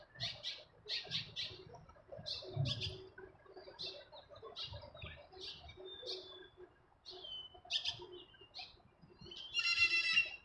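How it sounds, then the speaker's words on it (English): Birds chirp and call repeatedly in downtown Las Vegas, bright short tweets in quick bursts and clusters, fairly close, over faint low city rumble. "Crazy birds."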